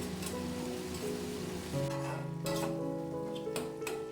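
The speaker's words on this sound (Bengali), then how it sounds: "এবার মশলাটাকে খুব ভালো করে একটু কষিয়ে নেব" Spice paste of garlic, tomato, salt and turmeric sizzles steadily in a pan on the stove, a soft continuous frying hiss with occasional scrapes of stirring and a low hum underneath.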